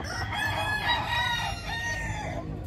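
A white Kelso gamefowl rooster crows one long, clear call close by in a backyard.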